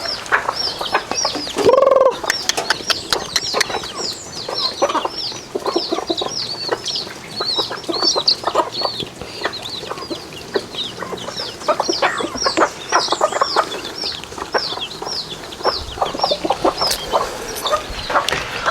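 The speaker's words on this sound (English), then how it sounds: "right now we're done feeding the chicken" Chickens cluck and chatter steadily while being fed in a rainy Haiti yard, a dense flock close by with overlapping calls and one louder squawk near the start.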